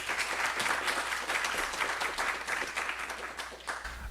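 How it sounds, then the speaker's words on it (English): An audience in a university law school hall applauds its speakers after a Supreme Court preview event, sustained dense clapping from a sizeable crowd lasting several seconds without talk. "Please give a round of applause for our speakers"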